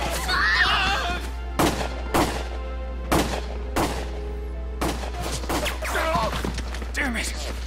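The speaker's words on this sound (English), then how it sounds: "Gunfire!" Gunfire in the Valkyria Chronicles video game rings out as a series of sharp, evenly spaced shots over a low constant hum, with agitated voices talking between the blasts.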